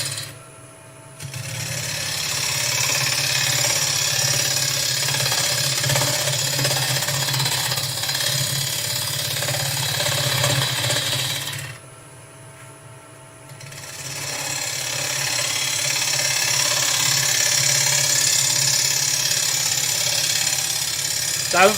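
Wood lathe spinning at about 1000 RPM while a turning tool makes a shaping cut, a loud continuous rough scraping hum that drops away briefly midway and then resumes, close up and without talking.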